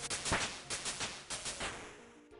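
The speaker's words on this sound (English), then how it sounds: "Some fireworks for something." Fireworks in the video game Old School RuneScape go off as a rapid series of about eight sharp, crackling bursts, fairly quiet and evenly spaced.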